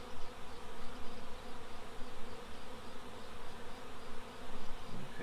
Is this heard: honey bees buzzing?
yes